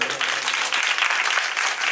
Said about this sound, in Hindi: जरा मेरे भैया के लिए ताली बजा लो